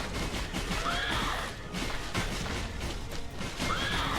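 Horses in the strategy video game War Selection, with a couple of short rising whinnies over a busy battle din of clattering hooves and clashing hits, fairly loud and continuous, no speech.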